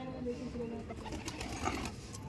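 Madrasi and Punjabi pigeons coo softly in a loft, low rounded murmurs repeating over a steady background hum with a little room noise.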